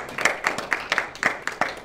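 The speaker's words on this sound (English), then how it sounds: "let's give the Lord a hand clap of praise" A church congregation claps hands in praise, roughly eight loud, rhythmic claps in a steady beat, close and alone without talk.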